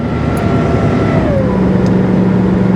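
A 2002 work truck's engine labours hard up a steep hill, a loud, steady, heavily loaded drone from inside the cab that holds constant throughout.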